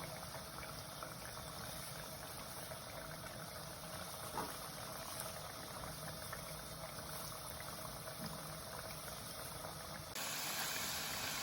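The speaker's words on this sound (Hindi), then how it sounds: "ये देखें, अब हमारे चिप्स जो हैं फ्राई हो रहे हैं, और बड़े अच्छे फ्राई हो रहे हैं, बिल्कुल मीडियम आंच पे।" Potato chips deep-frying in hot oil over medium heat for fish and chips, a steady dense sizzle and fine bubbling that holds evenly throughout, then grows slightly louder at the very end.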